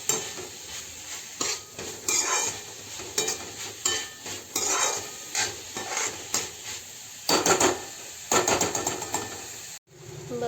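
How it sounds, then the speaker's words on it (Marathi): A pan of Maharashtrian sprouted matki bhaji is stirred and scraped with a metal spatula, producing irregular clanks and scrapes over a low sizzle, with a sharp burst of scraping near the end. "आणि छान मिक्स करून घेऊ याला आणि अजून 5 मिनिटं त्याला शिजवून देऊया"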